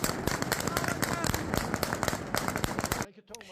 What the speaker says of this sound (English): It is celebrated with gunfire.